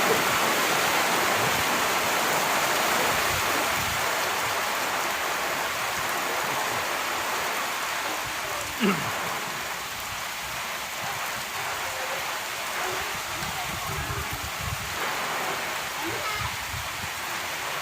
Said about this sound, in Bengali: খুব ঝড়ো সড়ো ভাবে একটা বৃষ্টি নামলো।